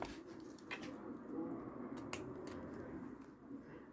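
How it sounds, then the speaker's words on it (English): Scissors snip along a paper edge during mixed media crafting, a few light, scattered cuts and rustles close up against a soft room hum. "Let's just get some scissors and trim that."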